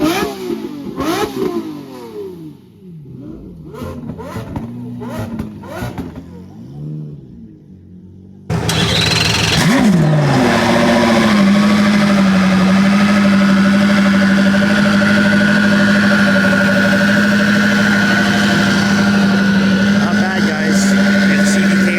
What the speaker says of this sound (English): the CC850 sounds absolutely ridiculous